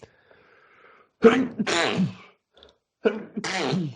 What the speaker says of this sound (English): Did you just snort?